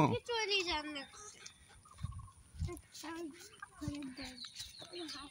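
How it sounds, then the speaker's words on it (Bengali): Chickens cluck and call outdoors on a sunny day, short irregular bursts close by, mixed with people talking over them. "কত মুরগি বেড়াইতেছে"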